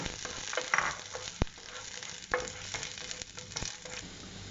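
Chopped garlic dropped into a hot pan for white sauce pasta, giving a steady close sizzle and fry with a few sharp clinks of stirring throughout.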